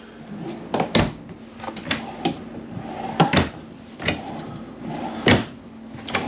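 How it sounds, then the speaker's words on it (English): Large storage drawers in a 2023 Grand Design Reflection 150 Series 270BN fifth wheel RV slide open and shut repeatedly, giving a series of close, sharp wooden thumps and clacks at an uneven rhythm, with no talking. "Big storage drawers."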